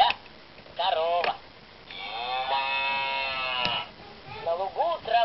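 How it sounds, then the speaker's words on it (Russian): A cow moos in one long, drawn-out low call, preceded and followed by short animal-like voice sounds, fairly close. "Корова."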